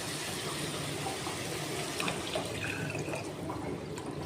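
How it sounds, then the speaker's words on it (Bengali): Water poured into cooked masala for a Bengali katla jhol fish curry, a steady close rushing splash that runs unbroken throughout, with no talking. "এবারে আমি কিছুটা জল দিয়ে দেবো।"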